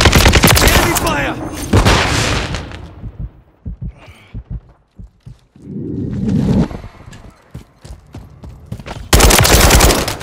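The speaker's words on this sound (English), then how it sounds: "Enemy fire!" Gunfire in a Call of Duty Modern Warfare III team deathmatch: loud, broadband bursts of shots at the start and end, with scattered sharper single reports through a quieter middle stretch.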